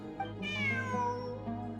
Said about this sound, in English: Look, a cat.